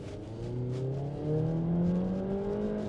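A Jeep Compass Limited with a 2.4 engine accelerating, its steady engine drone rising in pitch as the revs climb, close and continuous throughout.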